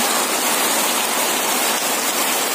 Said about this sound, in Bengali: এখন শুধু বৃষ্টি, অনবরত পানি পড়তে আছে।